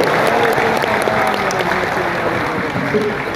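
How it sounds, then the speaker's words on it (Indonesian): An audience claps through a steady wash of applause at a comedy entertainment event for Pos Indonesia, dense and continuous and fairly loud for its full length. "kita berikan tepuk tangan sekali lagi untuk Cak Otong"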